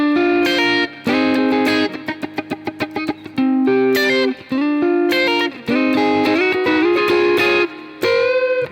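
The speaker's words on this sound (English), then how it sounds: "these muted notes sound really good, totally dry," Dry, muted electric guitar notes from a solo are picked in quick clipped runs and short phrases, with no reverb tail and brief gaps between bursts.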